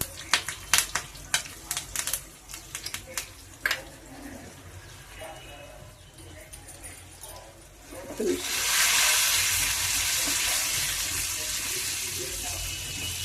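Mustard seeds, cumin, garlic and dried red chillies hit hot oil for a tempering, first a few scattered crackles and pops, then a sudden loud sizzle that swells and holds steady.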